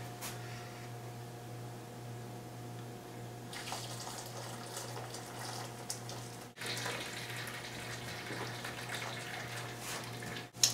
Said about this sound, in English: Let's see if I can just drain this through this way.